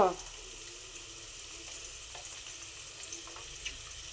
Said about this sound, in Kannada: ಲೋ ಫ್ಲೇಮಲ್ಲಿ ಇಟ್ಟಿದ್ದೀನಿ ನಾನು ಇವಾಗ ಎಣ್ಣೆನ. ಸಾಸಿವೆ ಎಲೆ ಹಾಕಿದ್ದೀನಿ ಇವಾಗ